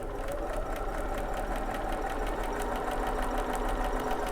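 A sewing machine runs steadily with its needle-down setting on while stitching tricky fabric, a continuous close hum with a faint rapid ticking rhythm throughout.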